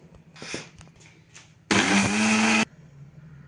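A mixer grinder whirs loudly for about a second, grinding barnyard millet (vari rice) into coarse flour; the motor starts abruptly, holds a steady, harsh roar, then cuts off between quieter kitchen sounds.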